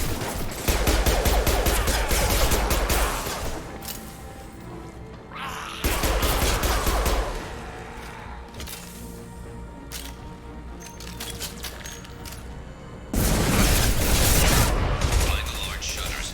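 Heavy automatic gunfire rattles through a Mass Effect 2 firefight, bursts of rapid shots and crashing impacts arriving in loud waves with brief lulls between them.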